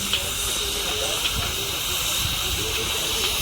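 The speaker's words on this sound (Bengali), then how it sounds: "এদিকে দেখতে পাচ্ছি ঝালাইয়ের কাজ চলছে" Welding on a railing at a garage-style work site: a steady, close hiss and crackle runs unbroken throughout, with faint distant voices in the background.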